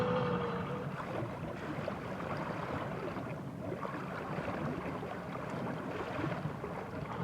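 A sailboat motoring across a flat calm sea, giving a steady broadband engine and water rush with some wind noise, constant and fairly loud throughout with no talking.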